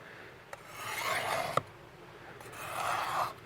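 A knife blade rasps in slow, even strokes across the ceramic rods of a Spyderco Sharpmaker, soft close scraping swells with a couple of light clicks between passes.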